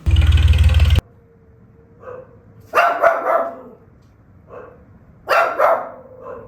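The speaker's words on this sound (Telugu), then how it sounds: "వేరే కుక్కలు అన్ని అరుస్తూనే ఉన్నాయండి" Several dogs barking in separate short bursts, a couple of loud bark clusters with quieter single woofs between, fairly close, after a loud brief noise at the start.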